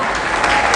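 Audience applause at a university symposium welcoming a guest, a dense steady burst of clapping filling the whole short moment at close range and loud.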